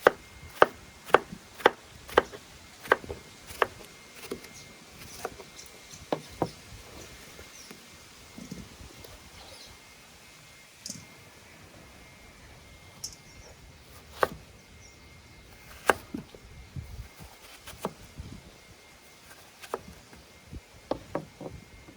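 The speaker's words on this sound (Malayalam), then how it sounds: "ഇനി നമുക്ക് ഇതിനെല്ലാം ചെറുതായിട്ട് അരിഞ്ഞെടുക്കാം" A knife chops through watermelon on a board in a quick run of crisp thuds at first, then slower scattered cuts with pauses, close and clear with no talking.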